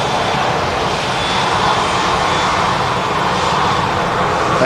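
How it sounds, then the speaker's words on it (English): An EasyJet Airbus A320 airliner arrives at Manchester Airport, its engines a loud, steady roar that holds constant throughout with no talk over it. "There we go, EasyJet E320 arriving here."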